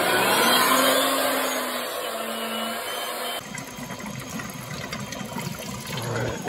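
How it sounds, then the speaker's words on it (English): Water drains steadily into a sink, a continuous rushing wash that shifts to a thinner, hissier tone partway through, with no talking. "we'll make sure that the sink drains well before leaving it unattended"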